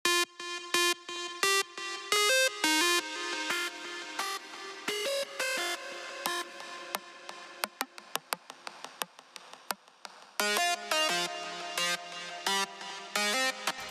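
Layered synth presets for a dancefloor drum and bass track built in FL Studio play a bright, stuttering melodic riff of short staccato chords, loud and close, with a brief sparser gap before the dense stabs return.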